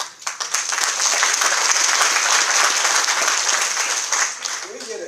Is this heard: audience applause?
yes